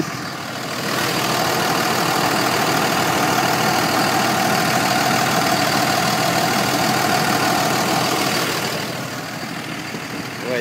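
A 2004 Ram pickup truck engine idles in hot, humid weather with the air conditioning running, a steady, even drone with a broad whooshing hiss, with no talking.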